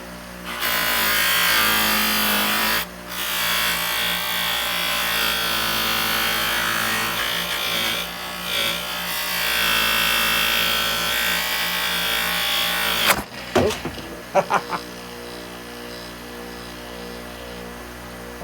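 A chrome pinball pop bumper ring is pressed against a spinning polishing wheel, giving a loud, sustained whirring rub that wavers as the part shifts, then cuts off to a fading motor hum with a few knocks.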